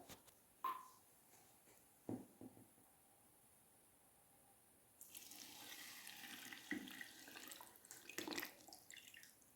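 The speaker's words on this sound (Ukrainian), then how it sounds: "зараз візьму водички, поналиваю і все" Water runs and splashes as it is poured into jars of pickled cucumbers, after a few soft clinks and knocks. The pouring is a close, steady, moderately quiet rush with a gurgling texture.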